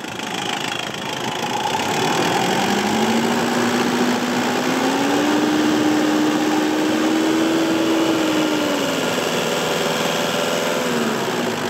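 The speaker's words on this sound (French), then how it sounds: "Accélère pour te mettre à 2500 tours minute." Mitsubishi L200 pickup engine revving up steadily toward 2500 rpm, a continuous close engine drone rising in pitch over several seconds and then holding, with no talk.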